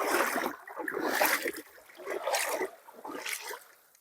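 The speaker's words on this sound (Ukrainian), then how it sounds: "Просто сплесну вода." Water splashes in the flooded Stokhid river in spring, several bursts of sloshing and splashing close by, separated by brief quieter pauses as someone wades through.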